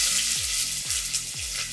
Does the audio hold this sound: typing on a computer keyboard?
no